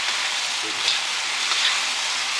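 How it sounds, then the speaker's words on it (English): Mee goreng noodles frying with sauce in a hot pan give a dense, continuous hiss and sizzle, close and steady for a couple of seconds, with no talk over it. "we want it to be absorbed by the noodles and fried together with the noodles here"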